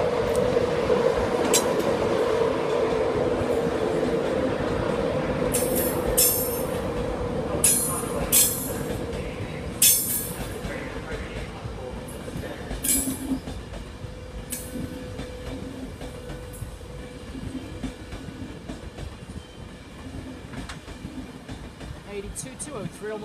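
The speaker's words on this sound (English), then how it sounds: "That's a train now approaching platform number 5" A train arrives at a platform at Peterborough station with a steady rumble, high wheel squeals and clicking rail joints. A public-address voice and station chatter can be heard over the train.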